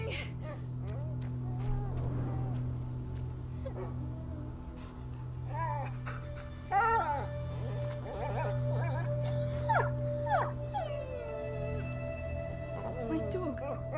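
A dog whimpers and yips in the game A Plague Tale: Innocence, thin high cries rising and falling in short bursts over a steady low drone, with voices speaking in between.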